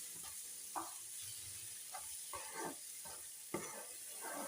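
Egg, garlic and chili masala frying gently on a low flame, a soft continuous sizzle broken by several scraping stirs of a spatula, close but quiet, with no talking.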